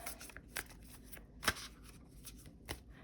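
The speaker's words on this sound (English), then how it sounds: "So I'm gonna just give this a little shuffle" A deck of art poetry cards is shuffled by hand, with soft riffling and sliding bursts, one sharper snap in the middle, quiet and close with no talking.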